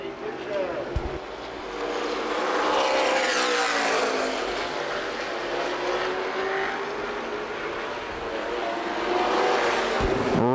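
Late model stock cars race at Winchester Speedway. Engines roar close by and sweep past in rising and falling waves while a commentator talks over the noise.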